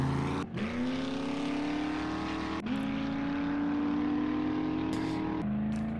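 Engine of a vehicle driven in the video game 7 Days to Die, droning steadily and loud with a rising pitch and two quick gear shifts, heard alone without talk.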